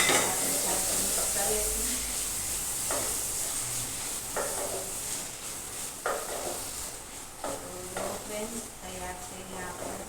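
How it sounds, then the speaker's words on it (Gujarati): Vegetable curry stirred in a hot, sizzling pan with lemon juice just added, as a steady loud frying hiss runs throughout beneath repeated scraping strokes of a spoon against the pan, heard close up. "આપણે શાક મિક્સ કરીશું."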